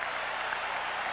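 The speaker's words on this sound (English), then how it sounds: "the crowd is buzzing now with Strawberry coming to the plate" A big baseball stadium crowd at a 1996 Yankees at Boston game keeps up a steady, dense roar of cheering and applause, loud and unbroken with no pauses.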